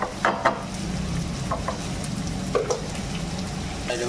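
Masala for a North Indian garlic chicken curry fries in a pan with a steady close sizzle, broken by a few light spatters and stirring scrapes, with no talking.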